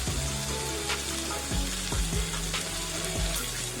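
Ginger frying in a pan for a chicken curry, with a steady close sizzle and scattered crackles and pops throughout, no voices.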